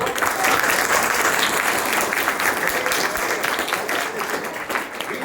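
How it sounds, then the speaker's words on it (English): Sustained applause from a school audience after a boys-versus-girls study-skills contest, a dense steady roar of many hands clapping close by, with faint voices mixed in. "So give a big round of applause."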